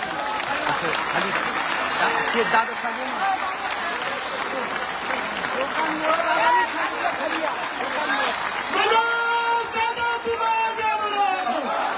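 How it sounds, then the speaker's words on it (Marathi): At a public rally, a large crowd claps continuously in a dense, loud wash of applause while an amplified voice speaks and calls out over it. "चला तीस सेकंद सलग टाळ्या वाजत राहायचं"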